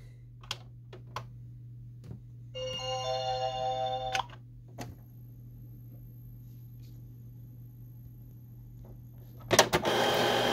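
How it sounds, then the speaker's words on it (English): An Epson WF-series inkjet printer starts up with whirring mechanical motion, scattered clicks and ticks, and a steady low hum beneath, ending in a louder clatter. "I'm gonna turn it on and give it some time to start up."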